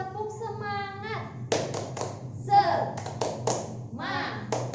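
Mothers in a community group perform a rhythmic spirit clap, sharp hand claps in a patterned beat mixed with chanting voices and speech throughout.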